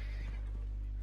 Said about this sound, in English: your horse is acting all jittery